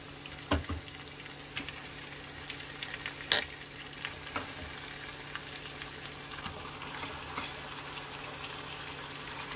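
Marinated chicken frying in a pan gives a faint, steady sizzle broken by a few louder pops and clinks.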